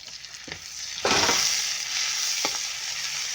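Red onion and shrimp paste sizzle in hot oil in a pan, a steady crackling frying hiss with a louder burst as ingredients drop in and occasional stirring knocks.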